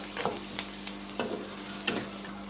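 Onions, ginger, garlic and green chillies fry in a pan for egg masala curry, a steady close sizzle broken by several sharp scraping stirs, with no voices.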